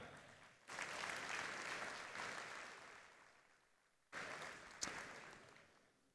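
A conference audience applauding a speaker as he is welcomed, a dense round of clapping in a large hall that fades out, then a second shorter burst of applause.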